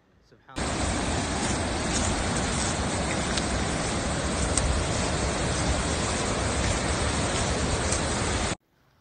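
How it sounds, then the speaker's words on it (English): Heavy rain pours down in Mecca, a dense, steady hiss of downpour that begins abruptly, holds at full strength for about eight seconds, then cuts off. "pilgrims struggling in the heavy rain"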